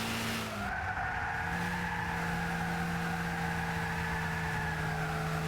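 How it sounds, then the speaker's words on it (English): A car skids sideways in the racing video game Gran Turismo 6, with a long continuous tire squeal over a steady engine drone. The sound is loud and sustained throughout, and no one talks. "my car went sideways"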